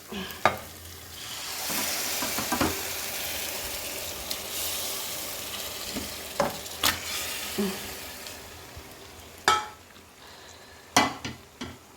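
A marinade of chicken, yogurt, chili and salt hits hot tempering oil, giving a broad, steady sizzle with scattered clinks and scrapes of stirring, close up and without talk.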